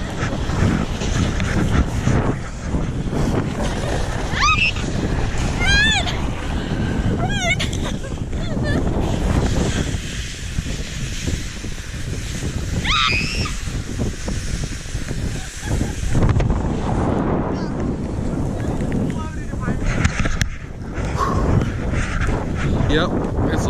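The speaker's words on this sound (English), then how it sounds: "Guys, look, it's blizzarding here." Blizzard wind blows steadily outdoors in deep snow in North Texas, a constant loud rush with buffeting gusts, while people talk over it throughout.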